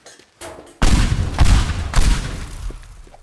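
Destruction in the video game Teardown: a near, loud series of heavy crashing booms and collapsing debris, with three big impacts following a brief softer rumble, and no talking.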